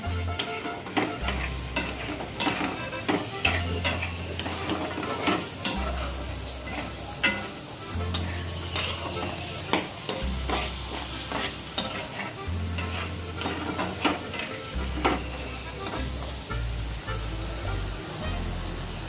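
Paneer tomato curry masala sautés in a pan with a steady close sizzle and frying hiss, while a spoon stirs and scrapes in repeated strokes throughout.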